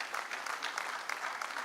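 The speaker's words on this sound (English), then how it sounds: "Continue to clap for him." An audience at an anniversary ceremony claps steadily, a dense, even patter of many hands at moderate volume, without any talking.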